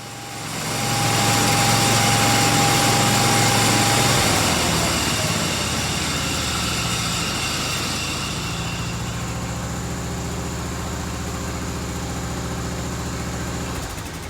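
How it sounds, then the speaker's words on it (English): An Ariens snowblower engine running with the auger turning. It comes on loud and steady, then eases after a few seconds into a lower, continuous mechanical hum that carries on to the end. "enjoy the snowblower turning"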